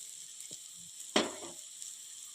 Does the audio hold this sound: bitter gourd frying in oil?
yes